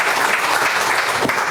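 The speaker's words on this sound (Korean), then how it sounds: "큰 박수로 환영해 주시면 감사하겠습니다" A seated audience at a Korean plastics forum gives a full, steady burst of applause to welcome a speaker, dense clapping from many hands, loud and close for a brief moment.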